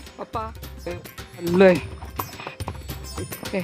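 Horse hooves clip-clop steadily beneath people talking on a horse ride at Matheran hill station, with the footfalls partly masked by the voices.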